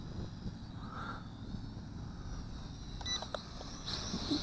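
An IAMGLOBAL folding FPV drone flies outdoors in picking-up wind, its faint steady propeller whine drifting at a distance amid wind noise, with a few brief electronic beeps toward the end and no talking.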